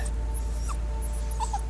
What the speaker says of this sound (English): ghost dog.